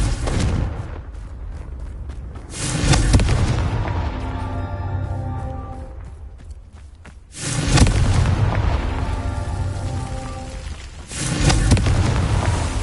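A Confringo fire spell in a Harry Potter video game sounds as three loud booming blasts, each a heavy burst with a long rumbling tail, spaced a few seconds apart.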